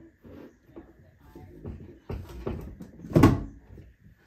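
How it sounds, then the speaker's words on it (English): A bathroom cabinet door swings closed and shuts with a single firm knock near the end, preceded by light shuffling and handling of items nearby. "The door closes shut, and that's what I want."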